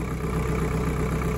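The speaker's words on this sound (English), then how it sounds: "This little tractor is like a rubber band. You got jack the throttle way up" A small tractor engine runs with the throttle jacked way up, a dense, steady, close mechanical drone with constant vibration and no pauses.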